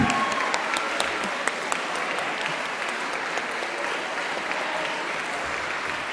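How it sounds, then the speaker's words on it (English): A school audience applauds the headmaster at the end of a house music ensemble competition: a steady, even wash of clapping that holds at a constant moderate level throughout. "Huge round of applause for the headmaster as well for his amazing judging"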